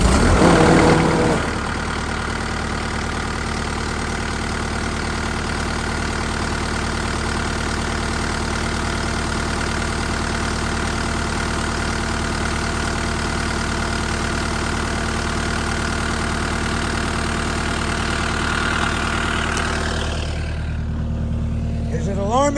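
Caterpillar 289D skid steer engine cranked and then idling steadily, a loud continuous diesel drone close by that holds for about twenty seconds before cutting off.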